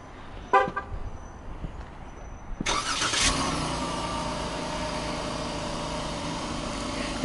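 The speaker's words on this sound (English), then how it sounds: "one of the features this has is remote start, so I'm gonna go ahead and start it up" Dodge Durango with a 3.6 liter Pentastar V6 started by remote start: a couple of faint chirps and clicks, then the starter cranks and the engine catches, settling into a steady idle nearby.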